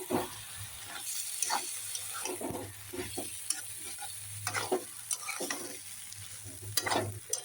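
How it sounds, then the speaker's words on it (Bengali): A spoon stirs dal in a cooking pan after mustard, poppy seed and green chili paste and a little water go in, scraping and sloshing in repeated bursts over a low simmering sizzle. "এখন ভালো করে নেড়ে চেড়ে নেব"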